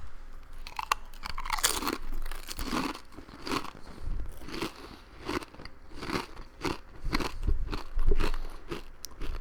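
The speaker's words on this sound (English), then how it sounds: "Chips very crunchy." Loud, close crunching and chewing of crispy chips, with repeated crackling bites in an irregular rhythm and no voices.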